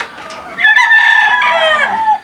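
Rooster crowing loudly and close, a long drawn-out crow among hens, with softer clucking from a flock before it.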